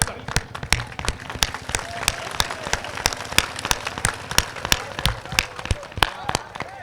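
Applause from a crowd at a poetry gathering in Fakharpur, Bahraich, with many hands clapping in a dense, steady patter and crisp, close claps popping out all the way through.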